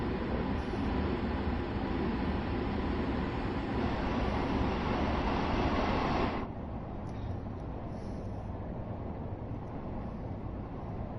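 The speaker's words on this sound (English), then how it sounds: "That is a train." A train rolls past in the Train Sim World 3 game, a loud, steady broadband rumble and rattle that drops in level partway through and carries on more quietly to the end, with no talk.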